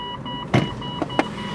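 A Mitsubishi Outlander plug-in hybrid SUV's electric mirrors fold with a short motor whir, followed by two quick clicks, close and distinct against quiet background.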